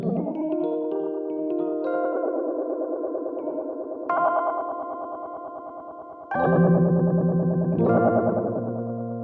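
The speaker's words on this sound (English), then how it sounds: "this is where you achieve more of your vibrato sounds" Electric guitar chords run through an effects pedal set to fast vibrato, producing a loud, continuous warbling, distorted tone with sustained strummed chords and fresh attacks every couple of seconds.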